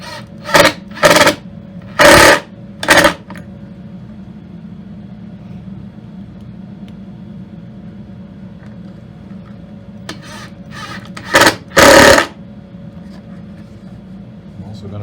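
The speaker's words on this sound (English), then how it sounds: "I'm going to hope I have enough battery to drive the screws" A cordless drill drives screws into a wooden folding wine table in short whirring bursts, a cluster of four near the start and two more near the end, with quiet room tone between.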